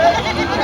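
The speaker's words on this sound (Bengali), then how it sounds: "এই পুরো ছাগল মার্কেট" A goat bleats at a busy goat market during the Qurbani Eid sales, a short loud wavering call set in a crowded outdoor din with general murmur around it.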